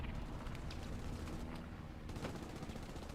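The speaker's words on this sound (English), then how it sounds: "Front door explosions happening." Explosions at the front door in a Carentan war video game sound as a dense, continuous crackle of blasts and gunfire at moderate volume with no voices.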